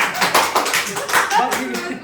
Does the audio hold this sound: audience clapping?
yes